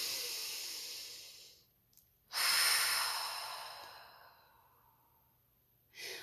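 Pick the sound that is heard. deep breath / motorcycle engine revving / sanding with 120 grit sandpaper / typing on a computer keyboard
deep breath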